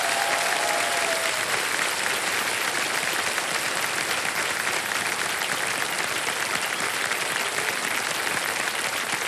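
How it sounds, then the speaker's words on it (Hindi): Studio audience on the KBC quiz show claps steadily for a contestant winning a ₹5,00,000 cheque, thick continuous applause throughout, with a brief tonal cue near the start. "जोरदार तालियां बज जाए इनके लिए।"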